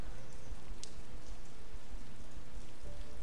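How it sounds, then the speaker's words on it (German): Rain in the online fantasy MMORPG Champions of Regnum, a steady even hiss of falling drops continuing unbroken at moderate loudness with no talk. "Und es regnet schon wieder immer."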